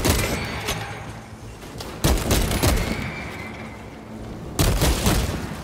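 Gunfire in Warhammer 40000 Space Marine 2, with heavy bolter shots landing as loud, sharp bursts in separate clusters against a rumbling combat backdrop, no talking during the shots.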